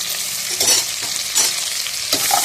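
A spoon stirs tomatoes frying in a pan for veg biryani, with a steady close sizzle and a few scraping strokes repeating over a couple of seconds.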